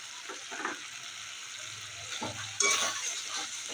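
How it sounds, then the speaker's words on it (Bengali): Spice masala with beaten curd stir-frying in a pan, a faint steady sizzle broken by soft scraping stirs and a louder burst of frying near the end, no talking. "সব মশলা একসাথে কষিয়ে নিয়েছি"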